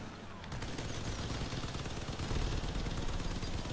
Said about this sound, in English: So as you can see, there's a lot of concentrated fire.